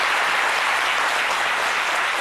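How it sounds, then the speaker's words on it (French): A studio audience of a French midday television programme claps steadily, a dense, even wash of applause sustained at constant loudness with no break. "Les applaudissements donc, du public de ces midi pour vous"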